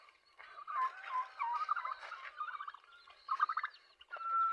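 Newly hatched chicks give quiet, high, trilling peeps in quick, uneven bursts with short pauses, close but soft, with no talking.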